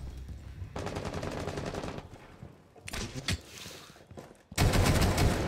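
Rapid bursts of TCSG gunfire in a first-person shooter match on the Villa map, with several close, loud volleys separated by short pauses. The last burst is the heaviest.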